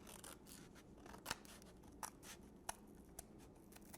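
Scissors snip into a piece of paper for a Mother's Day children's craft, with soft crisp cuts and several sharper clicks spaced irregularly, close up and quiet.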